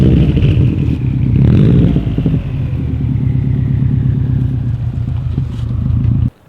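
A car's engine runs loud and close as the car is pulled out, with a steady idle, a brief rise in revs early on and a sudden cutoff at the end.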